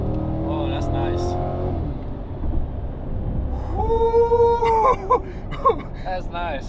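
A Chevrolet Corvette C8 V8 accelerates from inside the cabin, its engine note rising in pitch through gear changes over several seconds while people talk over the sound.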